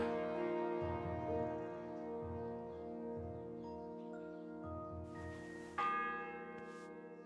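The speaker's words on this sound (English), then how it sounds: "The 6th bell." A church bell in the medieval world of the video game Kingdom Come: Deliverance II tolls slowly in even, ringing strokes, each one humming on with a long overlapping decay, heard alone with no voices.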